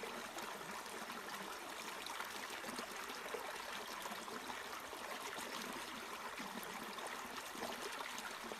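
A little mountain stream flows and trickles steadily, a soft continuous babbling wash with no other sounds, close but faint.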